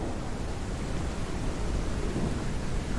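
A thunderstorm in the VR game Kayak VR: Mirage produces a dense, steady wash of rain and low rumbling thunder that continues unbroken throughout.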